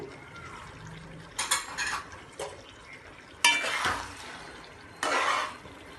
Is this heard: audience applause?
no